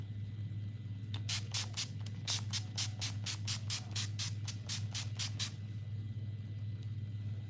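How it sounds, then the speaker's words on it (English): NYX setting spray misted onto a face, a quick series of about fifteen close, crisp pump bursts in a steady rhythm over a low constant hum, no talking. "Let me spray my face because I forgot to do this last time."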